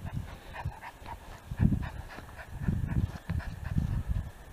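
A dog panting hard during outdoor whoa training, with rapid rhythmic breaths and a few faint whimpers, close to the microphone and steady throughout with no speech.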